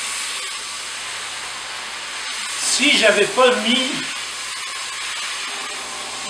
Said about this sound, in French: c'est juste de la vapeur qui sort